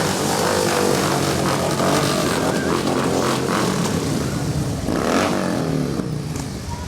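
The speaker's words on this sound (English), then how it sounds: "That's the Elks Motorcycle Committee." Motorcycles of the Elks Motorcycle Committee roll past in a Veterans Day parade, a broad rumbling engine drone with a pass-by swell near the end, under crowd noise.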